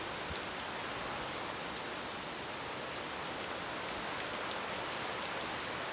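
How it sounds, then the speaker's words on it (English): Steady, heavy rain from Hurricane Debbie falls without pause in South Carolina, a dense and even wash of drops close by with no voices. "This rained all day and all night last night."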